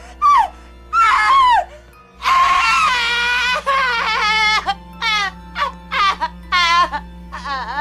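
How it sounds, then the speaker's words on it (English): A horror character screams and wails in repeated, shrill, piercing bursts, starting with short cries and then one long strained shriek followed by a run of choppy, sobbing yelps, loud and close. "I will show a clip of Lana screaming."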